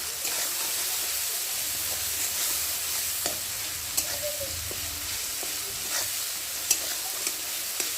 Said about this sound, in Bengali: দিয়ে টমেটোটা একটু ভালো করে নেড়ে নেড়ে গালিয়ে নেব। যতক্ষণ না টমেটোটা গলে যাবে ততক্ষণ নাড়তেই থাকবে।